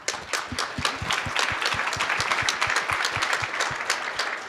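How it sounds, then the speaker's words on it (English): A conference audience at the opening plenary of a national bike summit bursts into steady, dense applause, many hands clapping together at an even level with no voices on top. "I just want to give you guys a round of applause"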